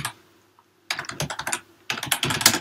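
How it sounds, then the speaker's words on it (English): Quick keystrokes on a computer keyboard as a short program is typed: two dense, close bursts of clicking separated by a brief pause, heard alone after a moment of silence. "I'm just going to write out a quick program here"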